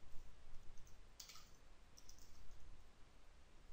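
Quiet clicks of fingers typing on a computer keyboard, a few short scattered bursts of keystrokes over a low hum, close by and with no talking.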